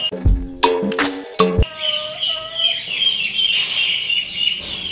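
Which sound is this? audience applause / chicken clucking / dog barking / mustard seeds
chicken clucking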